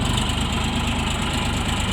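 A red Bulat 244L mini tractor with a three-cylinder engine idling close by, a steady loud chugging rumble with a fast even knock and no voices.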